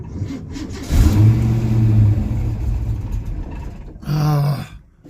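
An old 43-year-old Ford Mustang with electrical trouble and hard starts cranks and catches, revving up loudly, settling, then revving again briefly before cutting off, with no talking.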